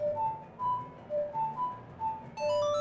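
A short ocarina lullaby from Majora's Mask, a few clear, pure whistle-like notes in a slow, gentle melody, soft and alone with no talk.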